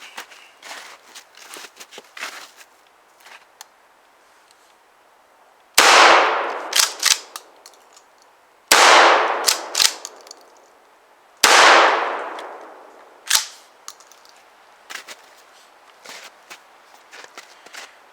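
A shotgun fitted with a recoil pad fires three loud, sharp blasts outdoors, spaced a few seconds apart. Each blast trails off into a decaying echo, with quieter clicks and handling noises around the shots.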